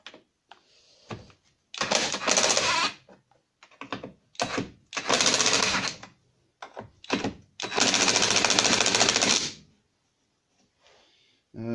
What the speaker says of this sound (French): on va essayer direct à la péteuse